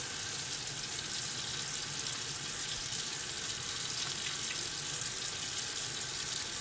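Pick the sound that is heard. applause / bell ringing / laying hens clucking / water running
water running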